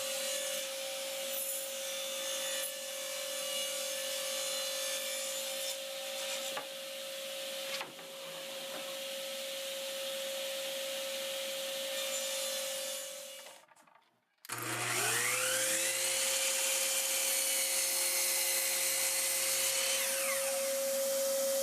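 A table saw rips 2.5-inch wood strips: a steady, loud whining drone carries through the first part, cuts off abruptly, then the blade spins back up into a second sustained cutting run, with no talking.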